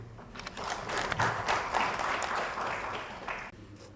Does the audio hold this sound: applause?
yes